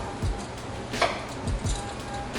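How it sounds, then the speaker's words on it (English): Eggplant being sliced with a potato peeler: a few soft, scraping strokes, close and quiet, spaced unevenly apart with no other sound. "So I'm gonna start making these slices with the potato peeler."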